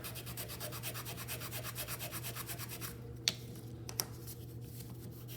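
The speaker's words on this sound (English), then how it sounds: "we're sanding again until we pass the trap test" Wooden rails on a mousetrap car are sanded by hand in quick rhythmic back-and-forth rubbing strokes, quiet and close, with a couple of small knocks near the end.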